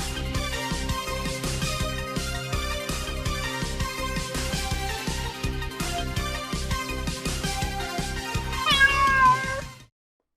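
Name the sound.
cat meowing music played as a sound effect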